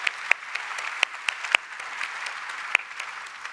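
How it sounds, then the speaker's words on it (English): Keynote audience applauds for volunteers, a steady patter of many hands with a few sharp, close claps standing out above the crowd, no talking. "A big round of applause for our volunteers."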